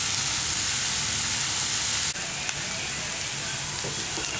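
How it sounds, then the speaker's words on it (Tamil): Salted onions sauté toward golden brown in a frying pan for a lamb spleen fry, giving a dense, even sizzle close up with only a faint knock or two. "இப்போ நல்லா வந்து வெங்காயம் வதங்கிடுச்சு."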